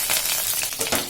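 Curry leaves hit hot oil in a pan for Chettinad chicken curry, giving a loud crackling sizzle with sharp spitting bursts and an undercurrent of stirring.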